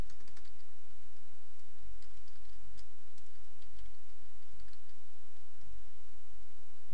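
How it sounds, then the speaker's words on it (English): Steady, rapid clicking of keys on a computer keyboard as notes are typed, close and continuous over a low room hiss, with no talking. "type in any notes pertaining to the model"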